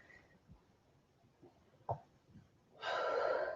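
Forceful exhales from a person doing lunges in a workout session: faint, soft breaths and snorts early on, then a louder sustained rush of breath near the end, with no talking.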